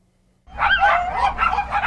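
Puppies from a puppy mill let out a burst of high yips and whimpering barks, close and loud right after a moment of silence.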